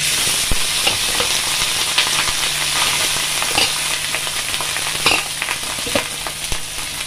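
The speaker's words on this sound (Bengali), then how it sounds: "যে ভাতটা করে রেখে দিয়েছিলাম সেই ভাতটা ওই ঘিয়ের ওপর দিয়ে দেব।" Cooked rice fries in ghee over low heat, giving a steady dense sizzle with scattered crackles and the scrape of stirring throughout, close and fairly loud with no talking.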